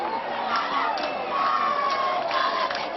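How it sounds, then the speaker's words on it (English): Softball crowd at a college game between Oklahoma and Wichita State cheering and shouting steadily, a dense roar with whoops rising throughout. "She got the crowd hyped."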